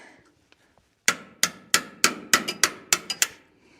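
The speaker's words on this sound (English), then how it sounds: "Pull out these cotter pins." Sharp metallic hammer-like strikes knocking out old cotter pins on a '58 Willys front axle, about nine loud, close blows in an uneven rhythm after a quiet start.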